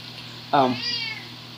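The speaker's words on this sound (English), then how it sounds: "that's my cat. He's saying goodbye." A pet cat gives a single clear meow lasting about half a second, close and loud, rising then trailing off, over a quiet room with a low hum.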